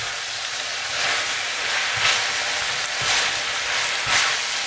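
Strips of veal with paprika fry in a pan, a steady loud sizzle with periodic scraping bursts as the meat is stirred, with no talking.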